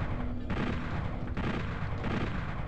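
Dense, continuous bursts of rapid machine gun fire in Doom 64 on the Nintendo 64, loud and relentless, with brief pauses between long volleys and no talking.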